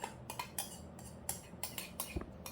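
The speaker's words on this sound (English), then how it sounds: "So you just mix it all in a bowl and mix it really well." Sauce ingredients for sweet and sour monkey head mushroom, including ketchup and minced garlic, are stirred in a bowl. A utensil scrapes and clinks against the bowl in quick faint strokes.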